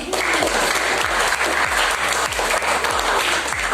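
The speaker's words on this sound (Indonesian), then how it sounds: "Beri aplaus untuk kita semua." A classroom of students applauds together, a dense, steady wash of clapping that stays loud and unbroken throughout.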